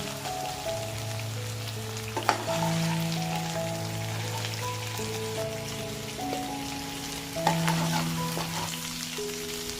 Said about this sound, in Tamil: அந்த மசாலா நல்லா சேர்த்து அது கூட பைண்ட் ஆகிற மாதிரி மிக்ஸ் பண்ணி குக் பண்ணுங்கள்.